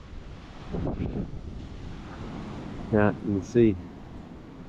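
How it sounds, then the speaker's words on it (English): Hurricane Milton surf breaking on a beach while strong wind buffets the microphone. The roar runs steadily under a man's short spoken remark. "as those waves come in, look at the surf get blown up in the air"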